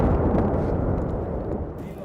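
Deep, rumbling booms from rocket shelling in the war in Ukraine roll on continuously, loud and heavy, with a muffled thud toward the end as the rumble tapers.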